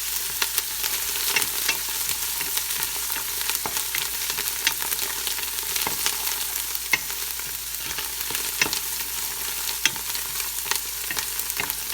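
Green bananas with cilantro cook in a pot, a steady loud sizzle and crackle of frying with frequent stirring scrapes and taps throughout, close up and without voices.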